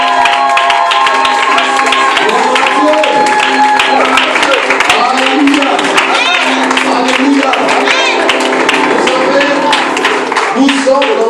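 A church congregation at a Sunday worship service claps steadily and continuously, with voices and singing rising over the dense, even patter of hands throughout.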